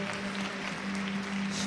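A church congregation at a worship service applauds in a brief burst of sustained clapping over a held low musical tone.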